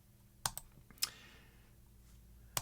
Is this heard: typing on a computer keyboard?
yes